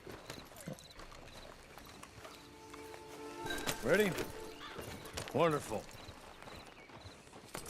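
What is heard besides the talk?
horse hooves clip-clop, from the video game Red Dead Online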